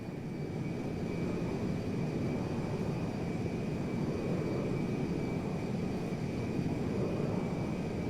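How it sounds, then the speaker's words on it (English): Steady roar of a jet aircraft coming in to land in Grand Theft Auto V, a loud continuous engine rumble and rush with a faint high whine throughout, no voices. "There's been a change of personnel and destination on the Meriwether jet. We are now landing at Mackenzie Field."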